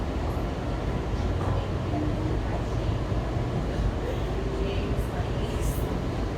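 A Kawasaki 7148 metro railcar on a ride to Gallery Place Chinatown, a constant loud rumbling roar of wheels and motors with faint squeals, heard from inside the car throughout.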